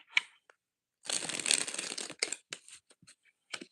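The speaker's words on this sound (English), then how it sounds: "One more shuffle." Tarot cards being shuffled by hand: a short riffle, then a longer burst of rapid papery shuffling followed by a few soft taps and slides, close and quiet.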